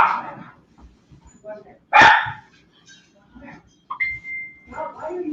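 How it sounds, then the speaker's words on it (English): A dog lets out a sharp, loud bark at close range, with a few softer yips around it and quiet voices in the background. "Pet that dog."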